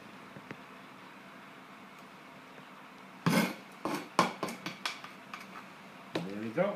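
A paint tin is opened and stirred with a series of close, irregular metallic scrapes and knocks after a quiet start, and someone speaks briefly at the end.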